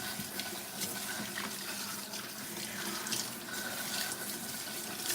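Water runs steadily from a salon shampoo sink tap, a continuous close splashing rush that holds evenly throughout with no voices.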